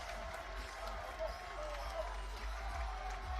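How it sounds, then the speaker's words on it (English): Crowd at an IPF powerlifting competition in Sheffield cheers and claps from a distance behind a lifter, a sustained roar with scattered shouts and a commentator talking over it. "The crowd is really behind him."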